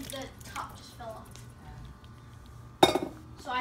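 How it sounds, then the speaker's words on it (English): Shrimp stirred into thick Alfredo penne in a cast iron skillet, with faint sticky squishes and one sharp clink of a utensil against the pan near the end, close by under low kitchen background noise. "Stir the shrimp in to the pasta."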